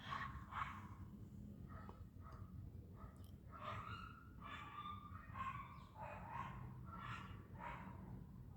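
Several dogs barking in short repeated bursts at a moderate distance, yips and barks overlapping over a steady background hum.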